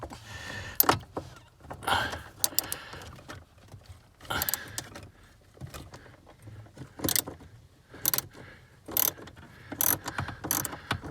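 A ratchet clicks in short irregular bursts while the binnacle is removed from a DeLorean DMC-12, close and intermittent, with small metallic knocks and clinks between the turns.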